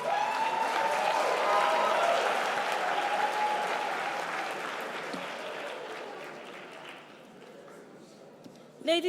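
Loud applause and ovation from a debate audience welcoming the University of Benin speaker at a youth leadership debate grand finale in Nigeria, peaking early then gradually fading.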